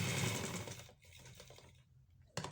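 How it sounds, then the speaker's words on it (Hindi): Sewing machine stitching the half-inch folded-in margin of a shirt, a steady close mechanical whir that fades and slows before a short final burst. "आधा इंच अंदर की तरफ मार्जिन फोल्ड करके इसको इस तरह से स्टिच लगा देंगे"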